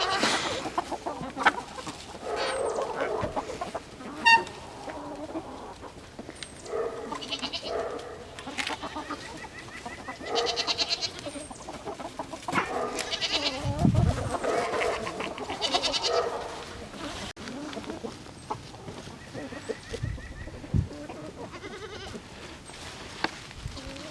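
Farm goats bleat repeatedly with chickens clucking in the background, a busy livestock yard heard close up and fairly loud, with a little talk now and then.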